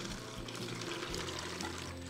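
Water gushes steadily from a running pump on a boat, a continuous splashing pour under a low tonal hum, close and unbroken for the whole moment.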